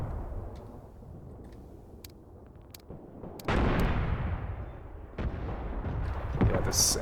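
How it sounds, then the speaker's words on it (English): Artillery barrage in the war game Graviteam Tactics: distant booming shell impacts, a few sharp cracks early, then heavy rumbling blasts that roll and decay, with another big explosion near the end. "the artillery has been called down on it, so it's just a matter of time"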